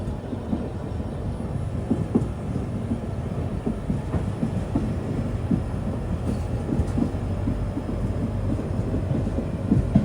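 Aboard the Guwahati to Sairang Express, a continuous loud low rumble of the running train carries faint rhythmic wheel clatter throughout, with no voices.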